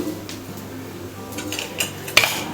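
A metal spoon stirs chopped coconut roasting in a pan, giving close scraping strokes and a few sharp clinks against the pan, with a faint sizzle beneath and no talking.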